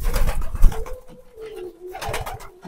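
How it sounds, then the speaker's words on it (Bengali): Pigeons resting after a meal coo softly nearby in low, rolling, throaty calls. Two or three drawn-out coos rise and fade against quiet rustling. "এখন কবুতর গুলা খাবার খেয়ে সবগুলা কবুতর রেস্ট করতে আছে দেখেন"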